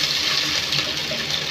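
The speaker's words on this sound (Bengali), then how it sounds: "এখন আমি দিয়ে দিব একটু পানি।" Water poured into a pan of browned fried onions, a steady rushing gush that runs continuously and fairly loud throughout, with no voices.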